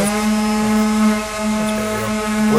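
A steady mechanical whine with a strong droning hum runs throughout, like a power sander working close by, wavering slightly in pitch.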